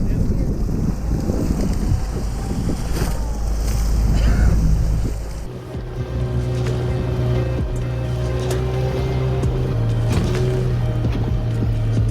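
Water sloshes and splashes around a small boat amid gusty wind noise near rocks off D'Urville Island, with a low engine-like hum coming in partway through.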